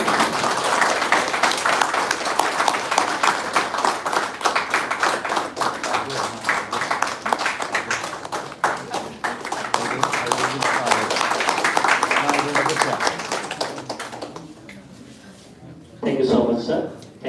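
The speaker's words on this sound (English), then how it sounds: "A big round of applause." A big round of applause from an audience at a school event honouring a guest, long and steady clapping that carries on strongly before dying down, with a brief spoken exchange near the end.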